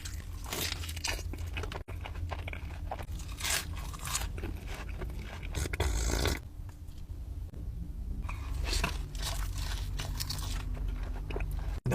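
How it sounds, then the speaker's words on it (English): Crunchy bites and chewing of fried chicken fingers and fries from Raising Cane's, close to the mic, with repeated crisp crunches and softer mouth sounds continuing steadily. "Let's eat some Raising Cane's."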